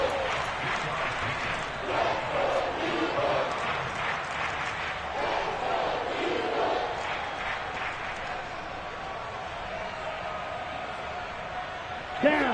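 A stadium crowd in a Madden football video game roars steadily and continuously ahead of a big third down, with play-by-play commentary talking over the swell.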